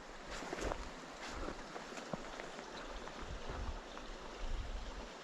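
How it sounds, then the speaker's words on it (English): A small burn runs outdoors, giving a faint, steady wash of trickling water with light splashy texture and a few soft bumps nearby, no talking. "There's definitely water running down there"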